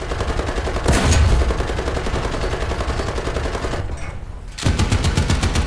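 Sustained machine gun fire from a tank in a war video game, a rapid continuous stream of rounds that drops out briefly near the end and then resumes loud and close.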